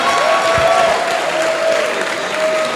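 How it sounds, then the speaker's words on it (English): Audience at a forum livestream breaking into sustained, loud applause for nearly three seconds, a dense wash of many hands with no talking over it. "Please clap for her."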